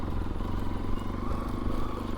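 A motorcycle engine labours along a rough off-road trail, giving a steady, dense low rumble with clattering texture that stays close and continuous throughout.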